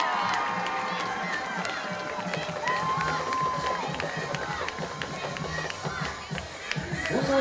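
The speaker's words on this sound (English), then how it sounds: "Pike Road fans, let's give a big round of applause to the Pike Road Intermediate School" A crowd at a high school game in Pike Road cheers and applauds in a sustained, fairly distant roar with scattered shouts and whistles, swelling slightly toward the end.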